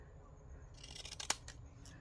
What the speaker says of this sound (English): why not use the decorative scissors to cut it in half?